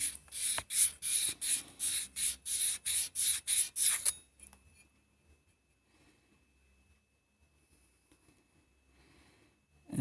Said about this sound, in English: I rotate it while I'm twisting the sandpaper.